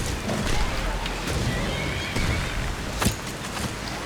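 A horse in the Skyrim video game, heavily modded, whinnies amid a busy wash of wind, clopping and game noise, the call rising briefly near the end of a few noisy seconds.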